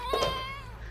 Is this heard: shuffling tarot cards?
no